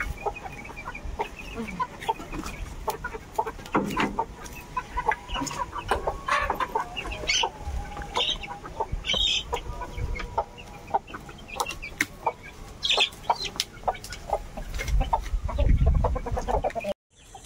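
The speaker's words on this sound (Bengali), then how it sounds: "মুরগির একটা আর কি জাল দিয়ে ঘেরা জায়গা সারাদিন খোলা থাকবে" Chickens in a net enclosure in the Sundarbans cluck and squawk repeatedly at close range, an irregular busy chatter of many birds that lasts almost the whole stretch.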